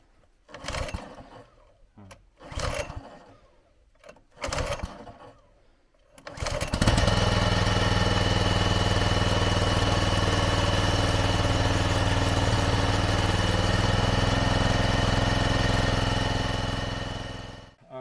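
Gas engine on a Split Fire 2265 wood splitter: a few short bursts from pull-starting, then it catches and runs loud and steady at close range for about ten seconds before cutting off.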